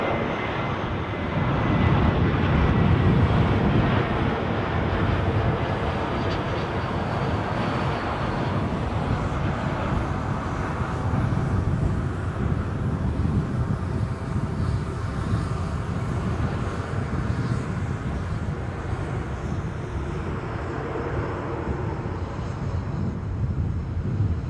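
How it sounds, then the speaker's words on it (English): An Airbus A321 arriving from Frankfurt roars steadily as it comes in to land at Edinburgh, a loud broad engine rumble that holds for the whole stretch with some wind noise. "Inbound aircraft is a lofty. Oops, if I can get a focus on it. A321 from Frankfurt."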